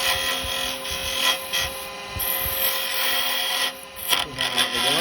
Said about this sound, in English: I'm going to come in here because this is going to be parting that off down there.